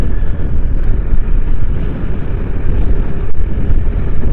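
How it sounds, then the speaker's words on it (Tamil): Strong wind buffets the microphone on a motovlog ride near stone quarries in Pudukottai, a loud, constant low roar filling the whole stretch with no speech. "காற்று இன்னைக்கு ஓவராகவே இருக்குங்க"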